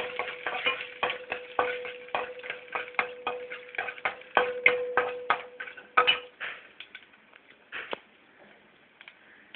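Cumin, mustard seeds, urad dal and chana dal fry in a pan for poha upma while being stirred. Close, crackling sizzles come with a quick run of ticking spoon scrapes, then thin out to sparser pops.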